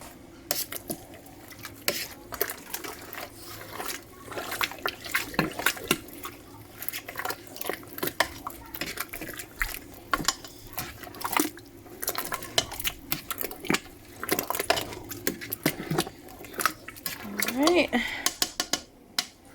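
Clattering and clinking of items tumbling into a metal pot, with scraping and light splashes in a busy kitchen while someone talks.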